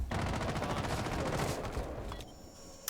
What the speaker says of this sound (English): We also saw some gunfire rattling in through these interesting wonky holes that they make